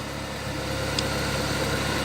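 A used car's engine idles steadily just after a stone-cold start, a continuous low mechanical hum and vibration at moderate level with no talking over it.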